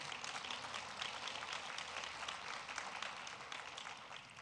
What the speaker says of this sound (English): please give a round of applause to our community